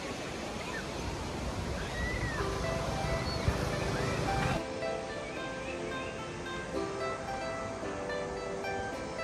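Surf washing onto Bouhandia beach beside a forested park in Tangier, a steady broad rush of waves close by with a voice talking over the first half.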